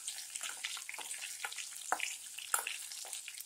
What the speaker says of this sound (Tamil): இப்போ நான் இது கூட கேரட் ஆட் பண்ணுறேன்